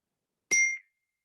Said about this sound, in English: That bell rang at the right time.